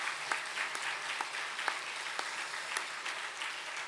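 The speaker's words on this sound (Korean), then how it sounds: "우리 힘찬 격려의 박수 한번 보내시겠습니다." Church congregation applauding volunteers during an early-morning autumn revival service, steady moderate clapping from many hands with a few sharper individual claps standing out, no talking.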